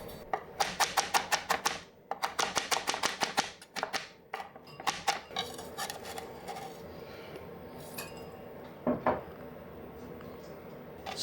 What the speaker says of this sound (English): Slice green onion into tiny pieces, like this.